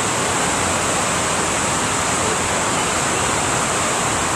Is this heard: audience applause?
no